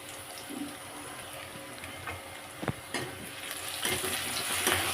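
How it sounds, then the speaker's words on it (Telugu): Cumin, onions, green chilli and garlic frying in hot oil in a kadai, a continuous close sizzle with light stirring clicks and scrapes, no voices. "ఆయిల్ పోసి జీలకర్ర ఆనియన్స్ గ్రీన్ చిల్లీ వెల్లుల్లి వేసాను"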